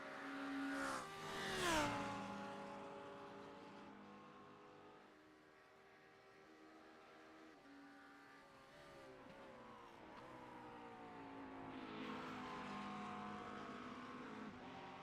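Lamborghini GT3 race car in a racing video game, engine revving hard with rising and falling gear changes, a sharp burst early on, then steady high revs and renewed acceleration toward the end, no voices.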